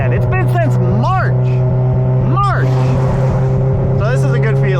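A Mazda FD RX7 drives with its window down, its steady, low engine drone running throughout as a person talks over it.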